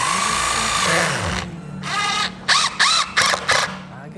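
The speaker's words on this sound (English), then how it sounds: "Go ahead and add a screw on there for stability." A power drill drives a screw into a wooden dining chair. A steady whine is followed by a series of short, loud trigger bursts close to the microphone.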